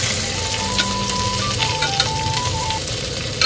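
Ginger dropped into hot frying oil inside a truck cab crackles in a steady, close sizzle that runs unbroken throughout, with a faint tonal hum underneath.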